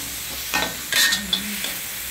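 Short bursts of sizzling and scraping as herbs and shellfish are stir-fried in a hot wok over medium heat, with quiet pauses between, close by and moderately loud.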